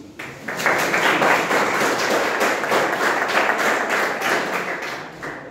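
An audience breaks into steady applause, a dense, close clatter of many hands that builds quickly, holds for several seconds and then thins out.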